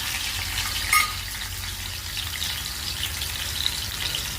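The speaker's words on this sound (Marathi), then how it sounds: "हे मस्त तेलामध्ये फ्राय झालेलं आहे" Masala of curry leaves, ginger-garlic paste and wet grated coconut paste frying in oil for liver curry, giving a steady close crackling sizzle with a brief louder burst near the start.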